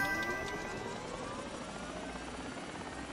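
An aircraft in a video game, a plane flown by another player in a combat match, gives a steady, continuous droning engine roar that holds at an even level throughout, with no talking.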